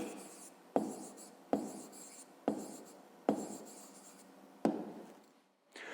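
Pen writing out a math answer by hand, close and quiet: a run of short scratchy strokes, each starting with a sharp tap as the pen meets the paper, repeated about five times.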